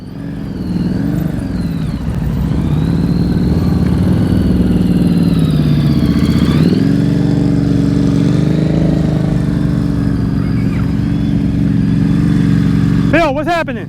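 A motorcycle engine runs continuously at low throttle during slow-speed riding practice, a loud steady drone that rises and dips slightly as the rider eases on the throttle, with a brief sharper burst at the end.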